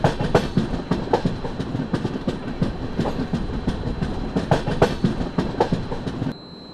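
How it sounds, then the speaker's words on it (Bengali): A passenger train on the long run from Kolkata to Jammu clatters steadily: loud, rhythmic clickety-clack of wheels over rail joints with a constant rumble beneath, cutting off abruptly near the end. "সকাল 11:40 থেকে ট্রেনে ট্রাভেল করতেছি"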